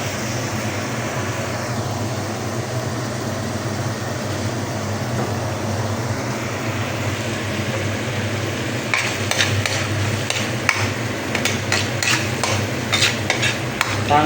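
Garlic sautés in oil in a pan, a dense steady sizzle that holds throughout, with a burst of rapid crackling and utensil clatter in the final few seconds.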